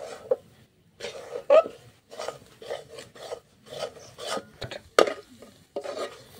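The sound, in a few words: stirring ground semolina into pumpkin laddu mixture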